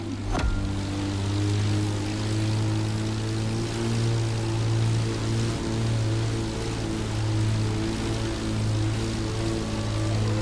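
Small aerobatic propeller plane flying in The Crew Motorfest, a steady loud droning engine hum that holds for the whole stretch, alone with no voices.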